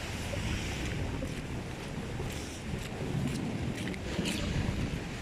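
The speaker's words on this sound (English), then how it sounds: "Trying to dodge the waves." Stormy sea surf breaking along the Devon coast, a steady loud wash of waves mixed with heavy wind buffeting the microphone, continuous throughout with no talking.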